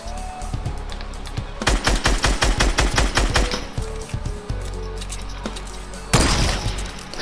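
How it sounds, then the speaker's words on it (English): Gunfire in Fortnite Battle Royale, a rapid burst of about a dozen loud automatic shots, then a pause and a single heavy blast near the end, close and sharp. "stop shooting, bro."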